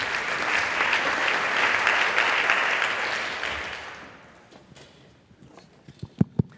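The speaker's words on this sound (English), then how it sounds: "let's give a huge applause for you as well" Applause from a conference audience at a closing plenary session, a dense steady wash of many hands clapping for about four seconds before fading out, followed by a few scattered footsteps and knocks in a quiet room.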